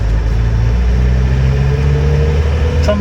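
A restored 1988 Land Rover 110 soft top with a 200TDi diesel engine and LT77 gearbox drives down the road on a warm day, its engine a loud, steady low drone with a small shift in pitch as it trundles along, heard from inside.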